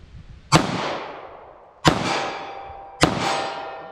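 A snub nose .38 revolver fires Remington HTP rounds at an outdoor range: three sharp, loud reports spaced about a second apart, each trailing off in a long echoing decay.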